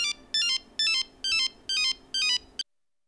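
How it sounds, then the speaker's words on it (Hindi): A phone ringtone trills in six evenly spaced bursts of rapid electronic warbling, close and clear over quiet background, then cuts off abruptly. "अर्जुन ने फोन काट दिया।"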